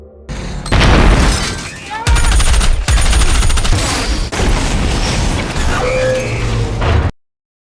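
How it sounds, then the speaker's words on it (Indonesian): Villains in a film battle detonate landmines as alien robots approach. Loud, sustained explosive booms and crashing debris come in several bursts, joined by rattling gunfire-like bangs and dense, chaotic action noise. "para penjahat meledakkan ranjau, lalu memulai serangan yang sangat taktis"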